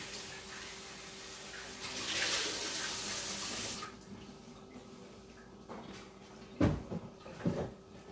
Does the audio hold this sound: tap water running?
yes